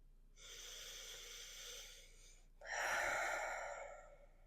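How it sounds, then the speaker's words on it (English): Yogic breathing close to the ear: one long, steady breathy inhalation followed by a louder, fuller exhalation, alone in a quiet room. "Don't be embarrassed to make those inhalation and exhalation noises"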